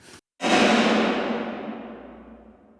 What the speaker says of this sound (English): Let's hear what the snare bomb sounds like on its own.